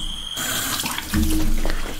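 Water gushes steadily from a sink faucet as someone washes their face, a continuous loud splashing stream that grows heavier partway through.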